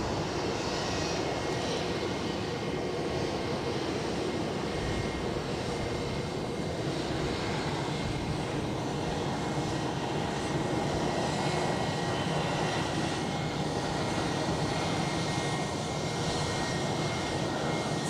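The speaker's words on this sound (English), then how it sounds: "British Airways hoving into view to my starboard side." A British Airways airliner at Edinburgh Airport holds a steady, fairly loud engine roar from start to finish, with faint tonal whine above the rumble and no speech.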